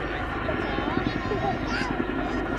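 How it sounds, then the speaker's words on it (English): A Chinook battlefield helicopter flies at the Cosford Airshow 2019. Its rotor and engine roar forms a steady, loud wash of sound throughout. "The Chinook is being used continuously as a battlefield helicopter for over 37 years"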